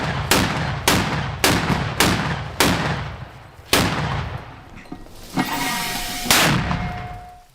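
Heavy gunfire during fighting in Avdiivka, about eight loud, booming shots at roughly half-second to one-second intervals, each with a ringing tail, close to the listener, with a metallic tone in the later part.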